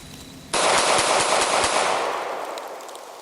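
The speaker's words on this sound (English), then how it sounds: "let's take a few rapid fire shots and see how fast we can go." A Sig Sauer P938 compact pistol fires a fast string of shots outdoors, sharp cracks in quick succession after a brief quiet start, with the echo trailing off at the end.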